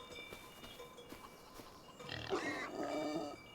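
Pigs grunt in the Farming Simulator 25 video game, a cluster of a few low, rough grunts and squeals rising out of quiet ambient game background in the second half.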